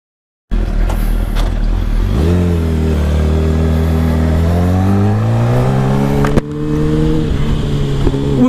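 A Suzuki GSX-R motorcycle with a swapped engine runs close by, idling low, then revving up into a rising, sustained tone before settling back, with no voices.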